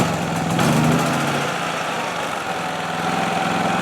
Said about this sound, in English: Starting the generator, straightforward and simple. Turn the master power switch on and push the start button.